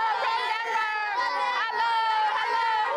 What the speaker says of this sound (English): Hundreds of villagers crowd around our car.